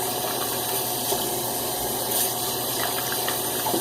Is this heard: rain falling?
no